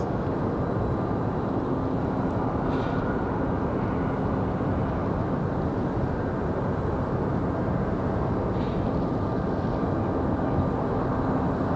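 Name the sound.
Airbus A319 airliner arriving from Chicago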